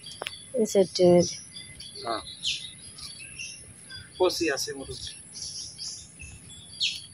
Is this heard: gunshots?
no